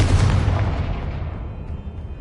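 A Confringo spell explosion in Hogwarts Legacy: one loud, close, rumbling blast that fades away over about two seconds.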